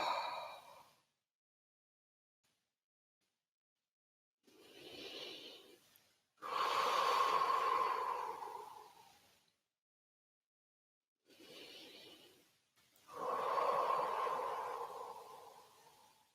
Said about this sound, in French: D'avoir 3 respirations profondes de nettoyage